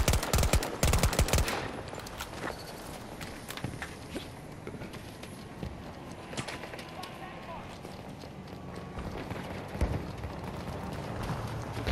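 Gunfire in the Battlefield 2042 game comes as sharp bursts of shots at the start, followed by scattered distant shots and rustling movement across an open map, with faint talk underneath.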